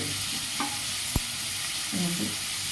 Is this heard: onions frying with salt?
yes